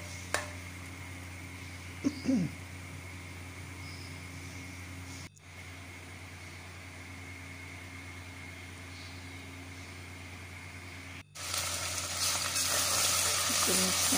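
Garlic paste fries in a pan with steady sizzling, a brief clatter of stirring early on, a short break midway and louder sizzle toward the end.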